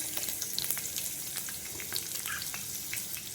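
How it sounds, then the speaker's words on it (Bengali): Garlic sizzles and crackles steadily in hot oil in a pan, a close, continuous frying hiss with scattered sharp pops throughout, no voices. "কিছু রসুন দিয়ে দিলাম"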